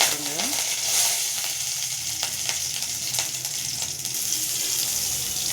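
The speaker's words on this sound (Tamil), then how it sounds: "கடுகு போடுங்க. கடுகு பொரியவும் கருவேப்பிலை போட்டுருங்க." Mustard seeds spluttering in hot oil give a dense, close, continuous sizzle with scattered faint pops throughout, and no voices.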